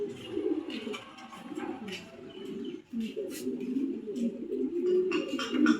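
Several damp pigeons, a male and a female among them, coo in low repeated rolling phrases close by, continuous and overlapping, with a few faint higher chirps and clicks mixed in.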